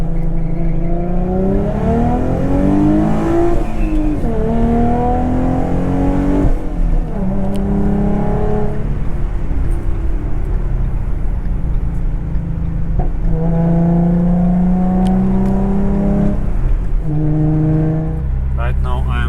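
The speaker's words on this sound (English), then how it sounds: "I want to test it on high speed right now, and I want to test it in 6th gear and at 60 miles per hour." A car cruising at highway speed in sixth gear, about 55 to 60 mph, with a loud, steady engine drone whose pitch rises and falls slightly throughout, and someone talking over it.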